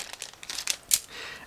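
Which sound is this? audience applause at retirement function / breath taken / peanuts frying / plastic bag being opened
plastic bag being opened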